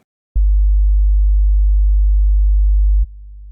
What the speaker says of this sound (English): when we have a listen to our signal in original compared through an emulation of a small speaker, you will hear what I mean